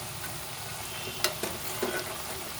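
Almonds stirred into hot ghee in a pan give off a soft, steady sizzle, with a few light scrapes and taps of a spoon against the metal.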